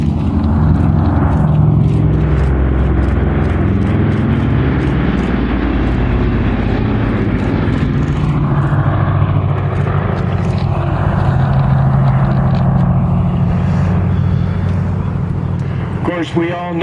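The B-29 Superfortress bomber Fifi flies past at a World War II weekend airshow, its four piston engines droning loudly and continuously, with the sound swelling and fading as it passes.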